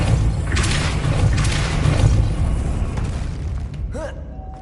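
The Depulso force spell is cast in Hogwarts Legacy, giving a heavy booming thump followed by a rumbling blast that fades, with a short whooshing sweep just before the end.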